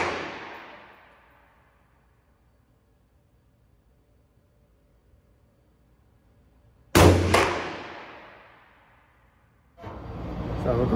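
Loud, close rifle shots from a Q Fix 8.6 Blackout short chop with a 12-inch barrel ring out two at a time with long echoing decay, separated by a quiet gap before another blast starts.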